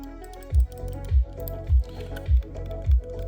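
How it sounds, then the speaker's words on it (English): Five evenly spaced presses on the clicky buttons of a GameSir G7 Pro controller, each a close thumping click over a faint background hum, with no talk. "let's check out the buttons."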